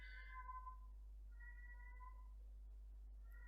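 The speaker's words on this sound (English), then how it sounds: "there's a cat meowing" A cat meows repeatedly in the background of a podcast recording, three faint drawn-out calls spaced across a few seconds over a steady low electrical hum, with no talking.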